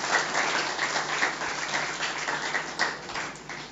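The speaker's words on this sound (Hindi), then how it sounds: "उन सब का ताली बजा करके आज हम स्वागत करेंगे" An audience claps to welcome young entrepreneurs at a gathering in Surat, a steady, full round of applause throughout with no talking over it.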